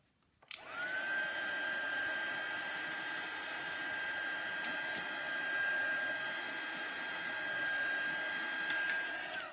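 A crafting heat tool blows hot air onto Brusho-painted card paper, a steady whining whir that starts abruptly and holds at an even, moderate level throughout, with no voices.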